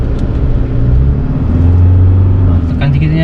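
A 2021 Isuzu D-Max 3.0 X-Terrain pickup accelerates, its engine a steady, loud drone from inside the cab that climbs in pitch as the truck picks up speed.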